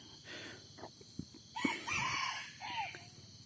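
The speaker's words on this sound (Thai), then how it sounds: "วันนี้พานกไก่ต่อมาสองตัว" A decoy red junglefowl rooster crows nearby in a long drawn-out call, followed by another shorter crow, with faint clucks and outdoor background noise.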